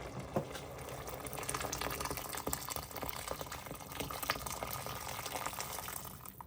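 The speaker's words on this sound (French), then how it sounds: "je vais maintenant y ajouter 1 litre d'eau bouillante" About a litre of boiling water pours into a pot of lentils that have been sautéing, making a continuous splashing, gurgling fill that stays steady and close for several seconds.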